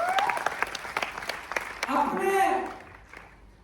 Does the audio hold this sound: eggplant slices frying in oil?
no